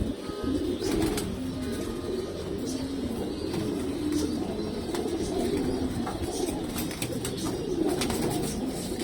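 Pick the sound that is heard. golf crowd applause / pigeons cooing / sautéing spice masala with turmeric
pigeons cooing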